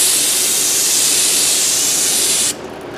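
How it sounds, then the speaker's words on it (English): Brake cleaner is sprayed on the front brakes of a Ford Freestyle in one loud, close, continuous aerosol hiss that stops sharply after about two and a half seconds, leaving faint background noise. "And we'll brake clean this baby off."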